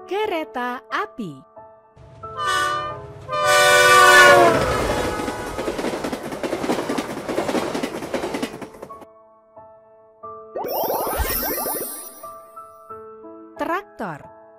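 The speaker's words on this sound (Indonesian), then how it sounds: "Kereta api." Cartoon train from a children's educational vehicle game, with a clattering run of wheels, horn blasts, and whistle-like tones. Voices and playful effects are heard before and after.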